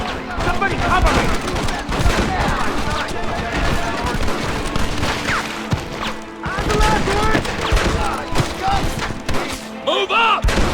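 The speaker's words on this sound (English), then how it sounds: "Stop shooting at me!" Heavy gunfire rattles through a Red Dead Redemption shootout, with dense overlapping shots and booms over several seconds while voices shout throughout the fight.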